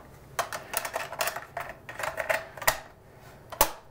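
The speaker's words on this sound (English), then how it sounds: "We could put a tape in it" Cassette tape being loaded into a Panasonic RQ 2745 portable tape recorder, heard as a run of close, sharp plastic clicks and rattles in irregular bursts, with two louder snaps near the end.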